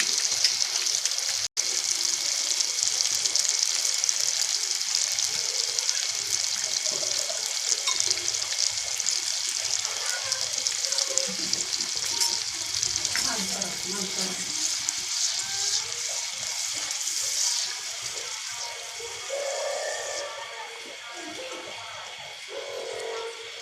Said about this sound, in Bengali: এবার আমরা তাতে দিব টক দই।